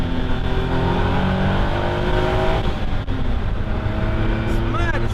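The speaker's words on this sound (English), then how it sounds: "it's a little turbo car, but you know, you think 660cc. Listen to it." A Caterham 7 with a 660cc turbo engine drones loudly and steadily at speed from the cockpit, its engine note rising and shifting amid heavy wind rush, with a voice talking over it.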